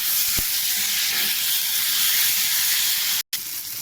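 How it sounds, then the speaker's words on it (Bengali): Spice paste of salt, turmeric, cumin, green chilli and ginger sizzles with chopped tomato in a hot pan, a loud steady hiss with a brief clank near the end. "এটা ভালো করে আমি কষাবো"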